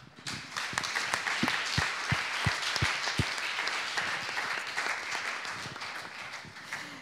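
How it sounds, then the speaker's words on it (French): Dense audience applause fills a lecture or conference hall on sustainable construction, steady and loud throughout, with a few sharper individual claps standing out near the start. "Je vous demande d'applaudir Malena Bastien-Mas."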